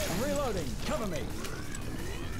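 Quick metallic clacks and ratcheting of a gun being reloaded in the video game Killing Floor, close and busy, over a muffled voice.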